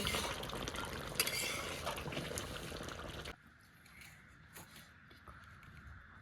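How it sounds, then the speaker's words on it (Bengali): Chicken and potato curry boiling in a pot, a steady broad bubbling and simmering wash for about three seconds, then quieter scattered pops and bubbles as the boil dies down. "টগর টগর করে ফুটছে"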